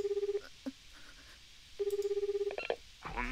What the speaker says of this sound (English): I snap open my cell phone and type out a series of digits